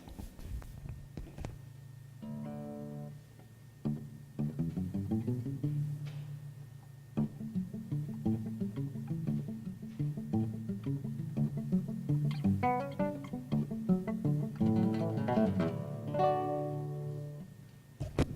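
Muted, pizzicato-plucked guitar notes, thumb and index finger, with a short, damped attack, played one after another in a slow melodic line, close and clear with no talking.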